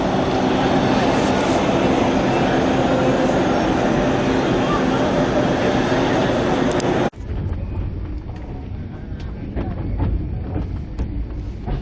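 A crowded passenger train bound for Ayodhya rumbles loudly and steadily at a station, then abruptly drops to a quieter, softer hum with faint background noises.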